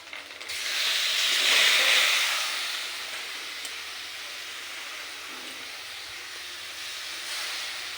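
Chopped tomatoes land in a hot cooking pan with a sudden bright hiss of steam and sizzle. The sound swells for a couple of seconds, then eases into a steady, softer frying hiss.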